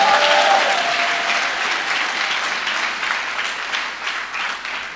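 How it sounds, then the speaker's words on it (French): A church congregation at a Pentecost service applauds in praise, sustained, dense clapping that starts loud and slowly tapers, with a few voices mixed in. "Est-ce qu'on peut acclamer le Seigneur?"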